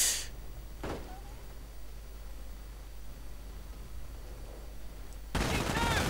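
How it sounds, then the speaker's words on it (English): MG-42 machine gun fire in a World War II strategy video game comes as short bursts at the start, another brief burst soon after, and a louder sustained burst at the end, over a quiet background hiss. "And an MG-42 in the Reich headquarters immediately storming some of the Commandos."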